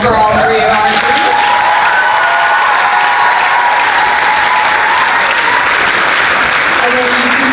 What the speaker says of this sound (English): A huge round of applause for all three of our students.